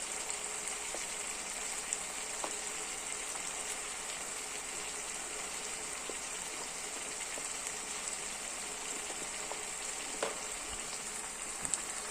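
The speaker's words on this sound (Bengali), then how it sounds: "ভালো করে কষাচ্ছি। মশলাটা খুব ভালো করে কষাতে হবে।" Chicken gizzard and liver sizzle steadily in a pan as a spice paste is sautéed, a continuous even frying hiss with a few faint clicks of utensils, no voices.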